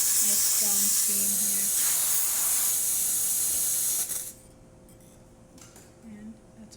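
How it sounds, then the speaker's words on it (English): Strong, loud steam hiss from the steam wand of a Quick Mill Vetrano 2B Evo espresso machine after a heating element replacement, a steady high rush that cuts off after about four seconds, leaving quiet room tone with faint clicks. "And then here's our steam."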